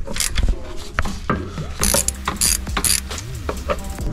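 Ratchet wrench loosening the alternator bolt on a Suzuki Carry, several close, sharp clicking strokes in irregular bursts, alone without talk.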